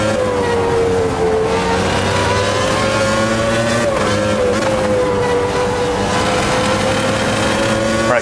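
V10 racing car engine in Automobilista 2, a loud steady high-pitched howl held near full throttle with slight pitch swells, close and continuous, other cars nearby on track.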